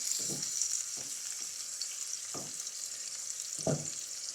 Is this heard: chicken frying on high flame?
yes